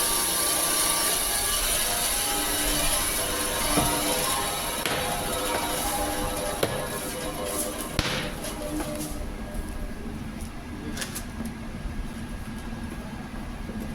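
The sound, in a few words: meat cutter cutting bone-in mutton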